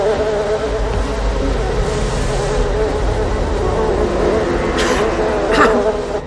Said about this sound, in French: je veux plus jamais être piquée par les abeilles